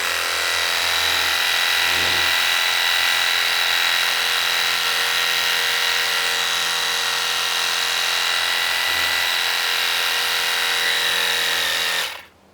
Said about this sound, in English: I'm going to set the nozzle to 40 degrees and we're going to see if it can remove some of this dirt here